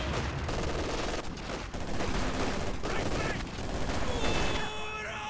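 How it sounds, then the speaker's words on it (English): Artillery fire in the World War II strategy game Company of Heroes 2 during a 2v2 match, loud and dense, with continuous heavy booms and rattling gunfire filling the whole stretch, a voice faintly mixed in. "Artillery shot comes through."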